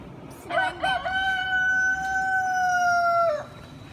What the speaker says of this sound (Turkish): canavar kümesinin lideri horozu böyle acayip bir şekilde ötüyor